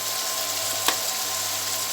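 Okra and green chillies fry in a pan for restaurant-style masala bhindi, a steady, fairly loud sizzle heard up close, broken by one sharp clack of a utensil partway through.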